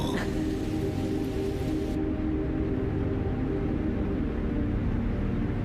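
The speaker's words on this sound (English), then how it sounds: "All that rain." Steady rain falls in a dense, continuous hiss, loud and close throughout, with no pauses and no voices.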